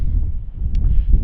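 Outdoors near the ruins of an abandoned church, wind buffets the microphone with a heavy, continuous low rumble and gusty rustle throughout.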